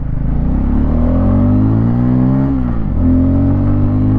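A 2024 Bajaj Pulsar N250 roadster pulls away in first gear. The engine note climbs steadily in pitch as the revs build, then drops sharply at a brief gear change and rises again, loud and close, with no talking.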